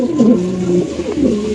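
Black Beauty pigeons coo in a deep, throaty rhythm, with repeated close, loud rolling calls and no talking.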